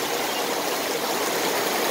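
Heavy typhoon rain pours steadily outside a shop in a flooding residential subdivision, a loud, unbroken broadband roar with no gaps or talking.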